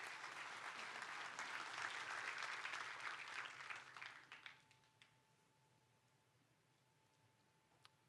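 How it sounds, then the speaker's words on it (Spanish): A church congregation bursts into applause during a sermon, a few seconds of brisk clapping that fades quickly to near silence with a faint lingering hum. "Den un fuerte aplauso a Dios por eso."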